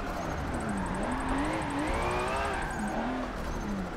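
Nissan S15 engine in Forza 7 revving steadily through a drift, pitch rising and falling with throttle, loud and continuous with a slight dip near the end.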